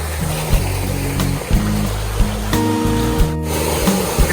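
Steady rushing water of a warm rural waterfall in a Malaysian village, a dense continuous roar with faint low tones and occasional soft bumps, no talking.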